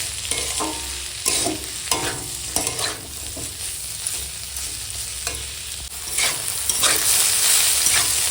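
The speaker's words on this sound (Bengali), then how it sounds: "এখন গোটা জিরের সঙ্গে একটু ভাজবো" Whole cumin seeds frying in hot oil, a steady close sizzle and crackle with repeated scraping stir strokes through the pan, no talking.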